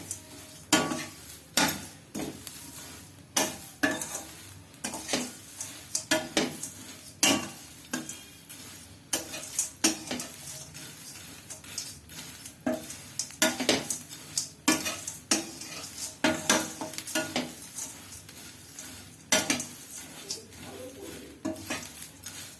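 Amaranth flakes dry-roasting in a pan, stirred with repeated sharp scrapes and clinks of a metal spoon against the pan in an uneven rhythm over a light rustling hiss, nearby with no speech.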